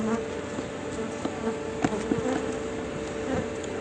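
Honeybees of Buckfast F1 or Carniolan F1 colonies hum steadily at a hive checked before winter, a dense continuous buzz with a few individual bees passing closer over it, no talk.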